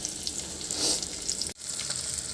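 Onions, mustard seeds, cumin, curry leaves, green chillies and turmeric sizzle and fry in hot oil as a tempering, a steady close crackle with a brief cut near the middle.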